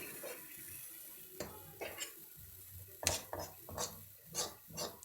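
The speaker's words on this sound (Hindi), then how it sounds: "इस तरह मैं सारी तरफ चमचा चला रही हूँ ताकि मसाला इसमें अच्छी तरह से मिक्स हो जाए" Spoon scraping and stirring bathua saag with spices in a pan over high flame, a series of soft scrapes and clinks in an uneven rhythm, close but quiet, no talk over it.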